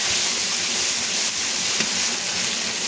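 Ground poppy seed paste sautéing in hot oil gives a steady, close crackling sizzle with a bright hiss throughout and no voices.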